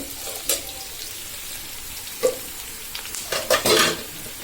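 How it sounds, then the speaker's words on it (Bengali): Onion, garlic and green chili fry in a pan with a steady soft sizzle, broken by a few sharp stirring scrapes and clinks. "আমার পেঁয়াজ, রসুন, কাঁচামরিচ ভাজা হয়ে আসছে।"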